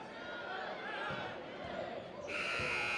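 A loud electronic buzzer blares near the end over constant crowd noise in a gym during a boys' high school basketball championship game, sustained and bright, cutting in abruptly.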